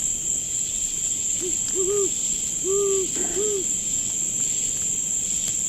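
Inside a virtual-world video game, an owl gives a few soft, low hoots in a short cluster, set against a steady high insect-like drone of nighttime ambience.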